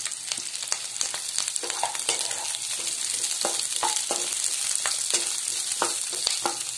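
Onions sizzle steadily in a pan for palak paneer, a continuous close frying hiss broken by repeated scraping stir strokes, with no voices.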